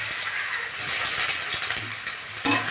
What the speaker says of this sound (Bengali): আমি এইভাবে ডাল করি, তেজপাতা, পাঁচফোড়ন আর লঙ্কা দিয়ে দিলাম